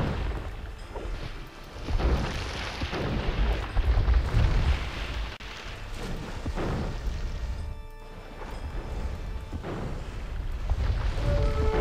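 Cannon galleons trade fire in an Age of Empires II naval battle at Lepanto, with repeated booming cannon blasts and crashing impacts rolling one after another over a dense, noisy battle background.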